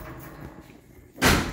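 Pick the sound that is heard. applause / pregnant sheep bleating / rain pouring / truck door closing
truck door closing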